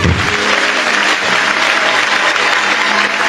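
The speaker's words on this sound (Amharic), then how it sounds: "አጨብጭቡ ለጌታ።" A church congregation breaks into loud, dense applause, many hands clapping together close by for a few seconds.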